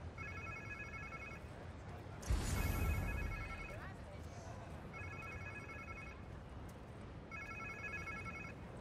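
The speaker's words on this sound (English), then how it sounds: "Sounds like somebody's phone." A telephone bell rings in repeated bursts, each a few seconds long with pauses between, over a steady low background hum in the video game Spider-Man 2; a brief louder rush interrupts midway.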